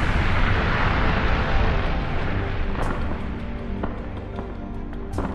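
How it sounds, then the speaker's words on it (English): Explosions in the video game Redeemer: Enhanced Edition rumble as a loud, continuous low roar, with a few sharper cracks breaking through near the end. "As I'm walking away from the explosions"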